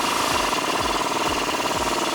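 Rapid rhythmic rattling from a tool tightening a strut bolt nut on a Ram truck, steady and close, with regular low thumps about every half second under a continuous buzzing drone.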